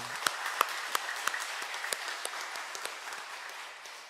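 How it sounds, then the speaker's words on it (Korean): A church congregation claps during a Sunday worship service, with a few sharp, distinct claps standing out early over a blended wash of applause that softens as it goes on. "우리 하나님께 영광의 박수 올려드리겠습니다"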